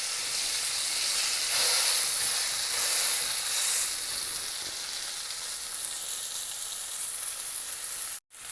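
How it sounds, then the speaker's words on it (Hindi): A chicken steak grilling in a pan gives off a loud, steady, close sizzle that holds for the whole stretch before cutting out briefly near the end, with no voices. "अब इसकी दूसरी साइड चेंज कर देंगे। चिकन हमारा अच्छी तरह पक चुका है।"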